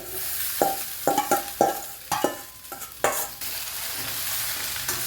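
A spoon scrapes and stirs sevai (rice noodles) in a pan, with about eight sharp, uneven strokes in quick succession and a soft sizzle underneath, then calmer frying with no voices.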